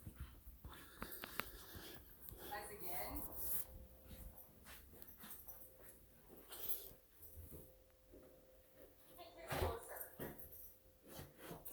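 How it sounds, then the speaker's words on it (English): Dogs in a home bark, whimper and pant at low volume in scattered bursts, mixed with a person talking and breathing close by. "It's because my dogs are barking."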